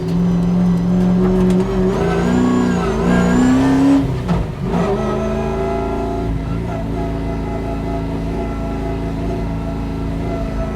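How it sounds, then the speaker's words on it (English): A drift car engine, a C6 Corvette or Mustang, runs loud and close while warming its front tires. A strained, wavering engine note lasts through the clip, with a brief dip near the middle and a voice heard over it. "So I'm just warming the front tires."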